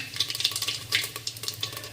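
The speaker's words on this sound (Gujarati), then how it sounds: "1 ચમચી જેટલી હિંગ નાખીશું" Asafoetida goes into hot oil that already holds mustard and cumin seeds. The oil gives a lively, close sizzle full of quick crackling bursts, with no talk over it.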